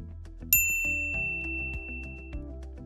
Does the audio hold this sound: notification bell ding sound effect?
yes